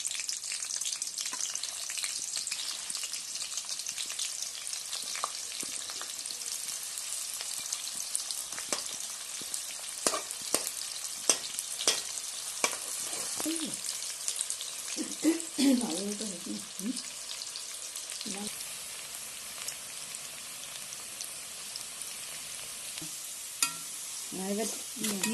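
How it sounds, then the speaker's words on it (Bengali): Onions frying in hot oil in a wok (kadai) for chicken biryani: steady, dense sizzle throughout, with occasional clinks and stirring scrapes of a utensil, no talk. "তেল গরম হয়ে গেছে, এবার আমি পেঁয়াজটা দিয়ে দিচ্ছি।"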